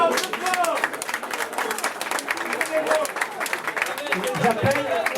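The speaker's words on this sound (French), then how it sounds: "Faut les applaudir là" Guests at an end-of-season dinner clap for people being called up, a lively spread of hand claps from a room crowd mixed with overlapping voices talking over it throughout.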